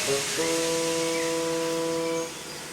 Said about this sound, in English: His driver blew his whistle